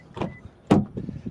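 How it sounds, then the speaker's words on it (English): Door locks on a 2019 Toyota Tundra TRD Pro CrewMax pickup actuating, a short mechanical clunk followed by a louder sharp thunk and faint rattling, close by and with no talking. "Let's unlock it again."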